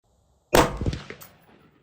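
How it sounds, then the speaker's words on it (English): A single sharp report from a Rock River ATH AR-15 rifle chambered in .223 Wylde, fired at a 100-yard range, with a close crack that decays quickly. "let's just shoot a group here at 100"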